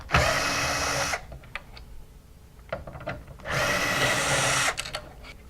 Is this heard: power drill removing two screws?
yes